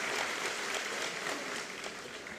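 An audience at a political speech applauds in a dense, continuous burst of clapping with no voices over it, holding steady and easing only slightly over about two seconds.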